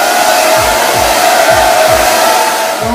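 A hair dryer blows steadily while drying hair, a loud, continuous whoosh with a steady motor tone and a few soft low bumps underneath.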